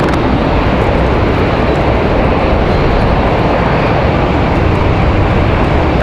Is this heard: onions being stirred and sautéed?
no